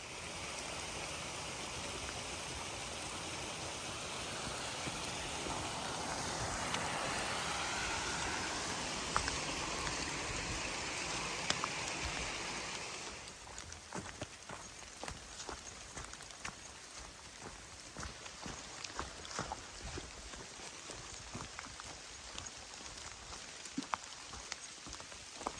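Rain falls on a green forest trail on a thru-hike of the Sheltowee Trace, first as a dense, steady hiss, then thinning into scattered individual drops and patters for the rest of the clip, with no talking.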